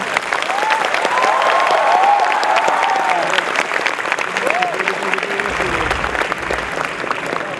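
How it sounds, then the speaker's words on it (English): Loud, sustained applause from a student audience at the ATMOS 2015 inauguration, dense clapping filling the room with some voices and whistles rising over it before it thins slightly toward the end. "I think the applause what you gave him is"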